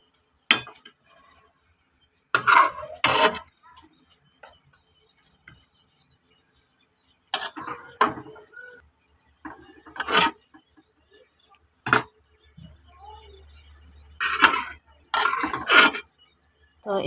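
Beef kaleji curry being dished out from a cooking pot at home, heard as sparse metallic clinks and scrapes of a serving spoon against the pot and dishes, coming in short separated bursts with quiet gaps between them.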